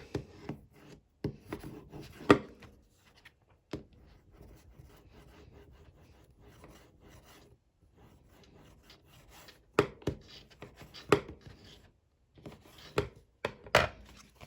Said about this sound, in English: Start folding that page and then creasing it some more.